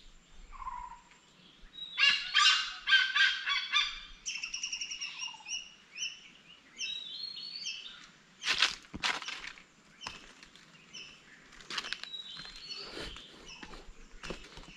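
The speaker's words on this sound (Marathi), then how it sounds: "ही बघा गरुडा कशी बोंबाटतात." Garuda birds in a rural Konkan village call loudly in bursts of shrill, high chirps and squawks, several birds overlapping, close, with short quiet gaps between volleys.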